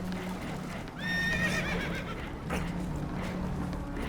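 Spooked horses in Red Dead Redemption 2 aboard a damaged boat, a loud shrill whinny with a few fainter neighs and hoof clatter over a low rumbling background.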